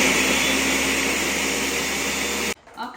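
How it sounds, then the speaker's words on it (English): A blender whirs loudly and steadily while mixing cottage cheese with melted chocolate, a constant motor roar that cuts off abruptly near the end, leaving a brief quiet rustle. "we're gonna pop it in our blender together. And we're going to mix it up till it's really nice and smooth"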